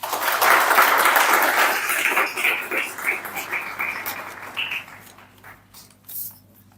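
Applause from an audience at a university lecture on national reconciliation, loud at first and then thinning into scattered, fading claps.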